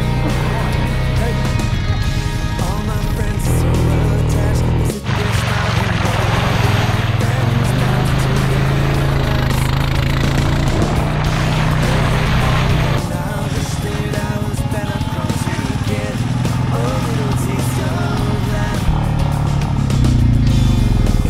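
A tractor engine runs on a New Zealand farm on a cold, wet day, a loud, steady drone close by with slight shifts in revving across the whole stretch.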